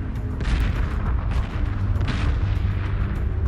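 Heavy weapons fire pounds a frigate in Homeworld 2, a dense, continuous barrage of low booms and bursts of gunfire with rhythmic thuds throughout and no speech.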